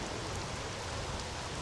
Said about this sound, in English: Is that rain?